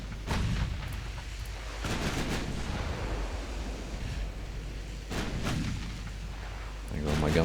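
Naval guns fire in the warship game Ultimate Admiral Dreadnoughts, set in 1917 with Italy fighting Austria: several heavy booming salvos at spaced intervals roll over a continuous low rumble of sea and battle ambience.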